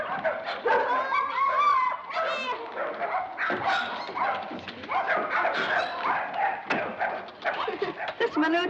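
A dog barks and whimpers in short, insistent bursts in a 1938 film scene, heard close under continuous talk and music.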